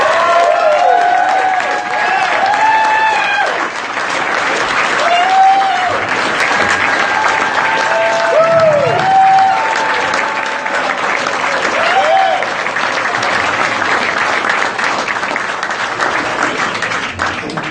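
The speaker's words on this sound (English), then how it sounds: "Ladies and gentlemen, a round of applause please for David Cole." Sustained applause from an audience at a book signing in Los Angeles, dense clapping that stays loud and even for many seconds, with scattered voices and cheers mixed in.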